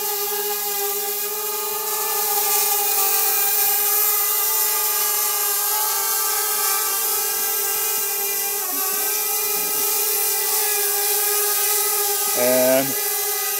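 A drone lifts off with a steady, loud, multi-toned propeller whine that holds constant, its pitch briefly dipping and warbling near the end as it climbs, close and droning throughout.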